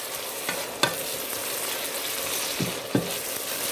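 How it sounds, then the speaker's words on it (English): Rice is stirred and toasted in a little hot oil in a pan, giving a steady close sizzle with several sharp scrapes and knocks from the stirring spoon. "if you have just a tiny bit of oil in your pan, and you throw your rice in there, just turn it around in there"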